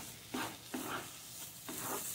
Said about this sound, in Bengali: যতক্ষণ না জলটা শুকিয়ে এটা শুকনো হচ্ছে ততক্ষণ আমি এটা নেড়ে যাব